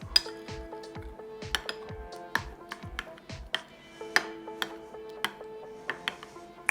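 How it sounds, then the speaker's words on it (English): Pizza sauce ingredients, including fresh basil, stirred by hand in a bowl: clinking, scraping utensil strikes against the bowl in a steady irregular rhythm, close and fairly clear, with no voices. "And all we do is mix all this together."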